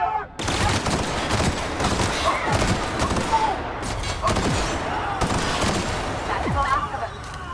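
Sustained rapid gunfire and volleys of shots in The Outer Worlds, dense and continuous throughout with overlapping bursts, while voices shout in the background of the combat.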